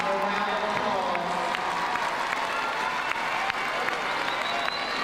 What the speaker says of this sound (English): Please give the Encore class of 2019 a round of applause.